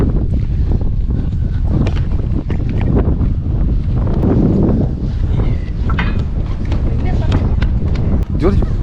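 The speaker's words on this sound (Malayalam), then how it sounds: "ഇവിടെ വന്നപ്പോൾ നല്ല കാറ്റുണ്ട്, നല്ല തണുത്ത കാറ്റാണ്." Strong, cold wind buffets the microphone on a high hilltop beside a cathedral, a loud continuous roar with gusty swells throughout, while people talk over it.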